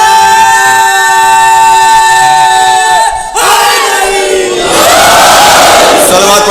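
A large crowd at a religious sermon chanting a naara slogan in unison, a loud sustained roar of voices with tonal ringing, swelling again after a brief dip.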